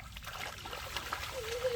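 Rainwater trickles and splashes in a subway passage, a soft, continuous dribbling with light splatters, fairly quiet and steady throughout.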